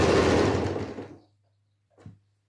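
A sewing machine stitches a pillow in a short close burst that stops after about a second, followed by a faint low hum and a brief soft knock.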